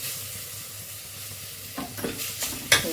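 A handful of mint leaves frying in a pan for chicken biryani: a soft steady sizzle of hot oil, then a few scraping stirs and clanks of a spatula toward the end, with no voices.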